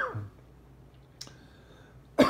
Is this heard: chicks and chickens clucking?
no